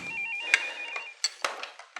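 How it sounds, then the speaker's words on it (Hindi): A telephone rings in a quiet room in an Urdu drama, a clear electronic trill that repeats with brief gaps and sharp clicks between bursts. "साईं अकबर जी का फोन है आपके लिए।"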